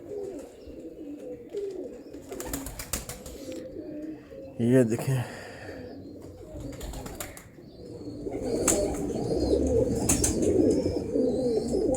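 Pigeons coo in low, throaty bursts nearby, with rustling and flapping, while someone speaks briefly over them.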